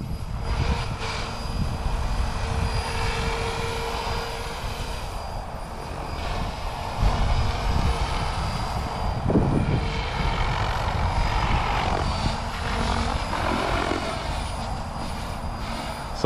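A SAB Goblin RAW Piuma 700 RC helicopter on a 6S motor, running at low normal-mode head speed: a steady whirring rotor and motor drone, continuous and fairly close, with no talk.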